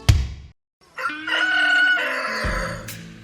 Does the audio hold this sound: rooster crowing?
yes